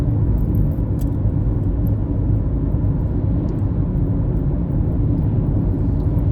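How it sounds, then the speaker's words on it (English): A car drives along a rural road past green countryside, its steady low engine and tyre rumble continuous and loud throughout, with no talking. "Now this is a nice drive back on this road here."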